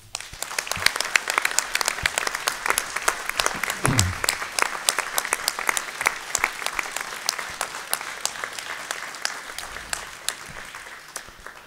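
An audience at a January new-year wishes ceremony gives sustained applause, a dense steady patter of many hands clapping that continues evenly throughout.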